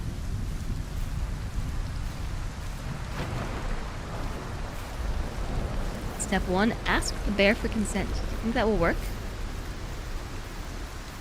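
Steady rain hisses in the video game Cairn with a low rumble of thunder underneath, while a person talks over it through the middle of the stretch.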